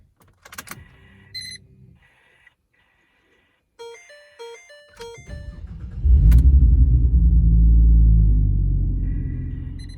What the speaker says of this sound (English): Be sure to start the car again and let it warm up so that the oil can drop.